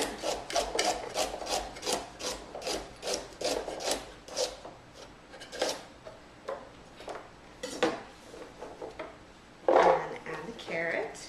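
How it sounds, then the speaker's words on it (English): A knife quickly chops a carrot with rapid, evenly spaced crisp knocks at close range, then the strokes slow and thin out into a few scattered cuts. "I'm just going to quickly chop up the carrot"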